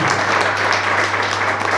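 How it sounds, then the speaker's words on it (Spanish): Congregation clapping during a church service, a steady dense wash of applause filling the whole moment, with a low constant hum underneath and no clear talking. "¿Cuánto le dan un aplauso al Señor?"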